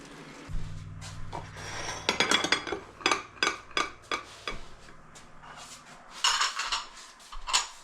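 Weck glass canning jars and their lids handled on a counter, giving a string of bright clinks and knocks of glass and metal, close and fairly loud, with no talk.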